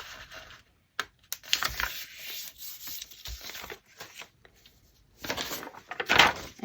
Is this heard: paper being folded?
yes